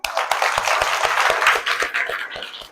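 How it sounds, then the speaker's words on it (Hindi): Children clap their hands together in a quick, uneven burst of applause that carries on steadily for a few seconds, with no talking over it. "ताली बजाओ।"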